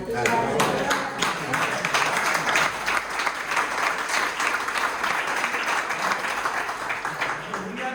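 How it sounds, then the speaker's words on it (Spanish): An audience at a lecture on gender ideology and Christianity breaks into loud, sustained applause, many individual claps audible in a dense rhythmic wash that carries on evenly for several seconds. "Vamos primero a darle un aplauso"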